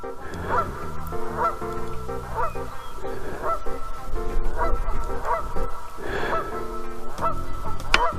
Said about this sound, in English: A couple of geese on the lake swimming around